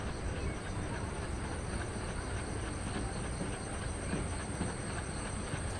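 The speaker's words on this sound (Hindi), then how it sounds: "क्या चगिंग की आवाज़ आ रही है यार उस ट्रेन की, बहुत सही आवाज़ आ रही है" A locomotive in the Train Simulator (Railworks) game, driving the Sabari Express, rumbles and chugs steadily with a dense, continuous roar and faint rhythmic clatter and no talking.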